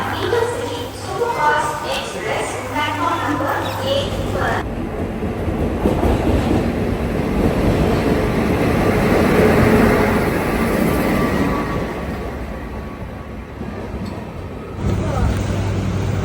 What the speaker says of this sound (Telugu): విజయవాడ ట్రైన్ వచ్చేసింది.